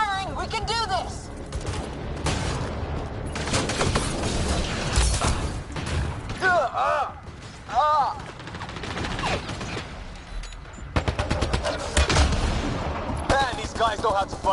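Sci-fi gunfire in the video game Mass Effect Andromeda, a dense loud fusillade of rapid weapon bursts and mechanical clatter with intermittent energy-like whines, continuous through the clip.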